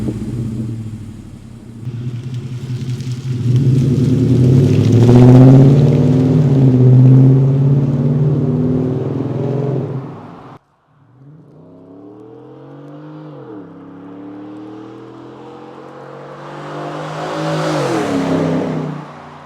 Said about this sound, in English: This exhaust really has an awesome sound.